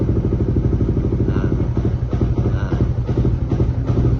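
A motorcycle engine fitted with an Aracer RC Mini X ECU idles on its idle loop plus setting, a loud, close, steady low throb with even rapid firing pulses and slight rattling clatter.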